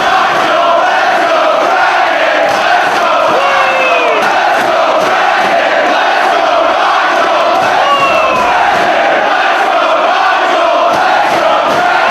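A large professional wrestling crowd at a Ring of Honor match roars and cheers continuously, a loud, dense wall of voices with scattered shouts and whoops throughout.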